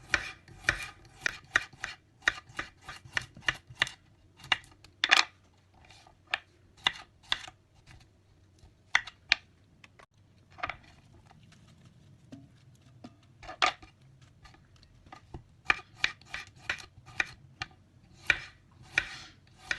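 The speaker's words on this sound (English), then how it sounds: "نقطعوا الخليط خيار، نقطعوا أطراف صغار" A knife cuts cucumber into small pieces for a Greek salad, giving quick, crisp chopping taps on a board in fast runs with brief pauses, close and clear with no talking.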